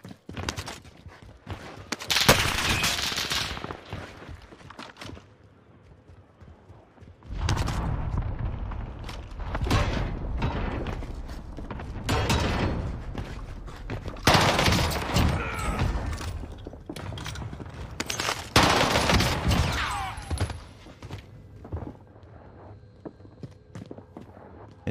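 Rapid bursts of Type 100 submachine gun fire in a Call of Duty Rebirth Island match, several loud, dense volleys separated by short pauses, with footsteps and movement in between.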